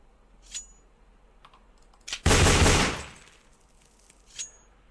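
In Counter-Strike, a player switches from knife to USP pistol: a short burst of a deholstering swish lasting under a second, loud and close, framed by faint clicks before and after.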